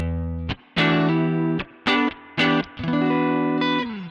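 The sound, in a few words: electric guitar through Koch 63'OD tube overdrive pedal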